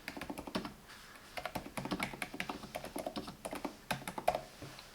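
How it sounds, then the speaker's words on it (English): Rapid, steady typing on a Be quiet Light Mount mechanical keyboard with ultra quiet switches, a soft, close-up stream of muted key clicks in a quick, uneven rhythm. "Ultra quiet mechanical switches"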